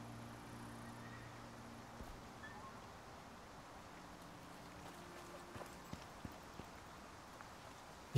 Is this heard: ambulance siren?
no